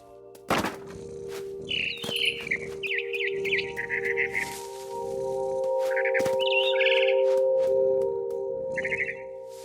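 In the video game What Remains of Edith Finch, a barn swallow chirps in repeated high, fluttering bursts, fairly close and clear, with soft thuds and wing-like rustles between phrases over a steady low musical drone.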